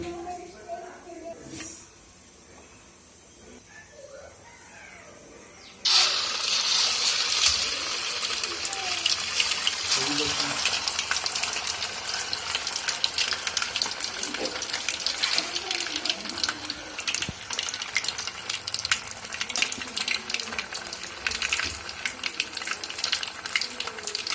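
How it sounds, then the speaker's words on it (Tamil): Chicken leg pieces dropped into hot oil for deep-frying: a quieter start, then a sudden loud, bubbling sizzle that holds steady and close for the rest of the clip. "இப்போ எண்ணெய் நல்லா காஞ்சிச்சு. ஒவ்வொரு பீஸாக போட்டு ஃப்ரை பண்ணி எடுத்துடலாம்."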